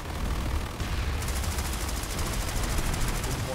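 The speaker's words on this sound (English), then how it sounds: "There's a proper shooting at the tree tower." Game gunfire from Planetside 2 during a firefight at a tree tower: dense, continuous rattle of shots and bursts throughout, steady and loud with no pauses.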